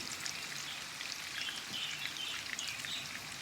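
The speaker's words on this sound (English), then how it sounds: "So I'm just going to fry it on medium-low" Frikkadel frying in a pan on medium-low heat: a dense, continuous crackling sizzle, even and close, with no voices.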